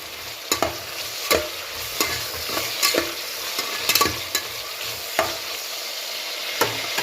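Tomatoes frying in a pan for home-style tomato rice, a steady sizzle with a spoon scraping and stirring in sharp, irregular strokes every second or so, close and fairly loud.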